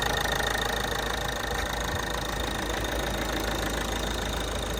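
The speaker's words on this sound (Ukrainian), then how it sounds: "Ось так працює двигун." A 2009 Ford Kuga 2.0 diesel engine idles close by, a constant low rumble with a faint knocking rhythm and no voices.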